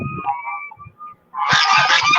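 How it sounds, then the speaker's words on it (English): A farmyard goose honks close by, a few short calls at first, then a loud, harsh burst of honking after a brief pause. "I can hear your goose."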